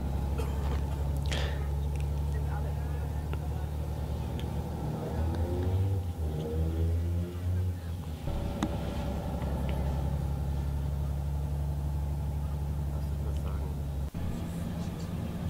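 A bus engine runs steadily on the drive to Cassis near Marseille, a loud continuous low rumble with a rise in revving midway, then a brief dip near the end.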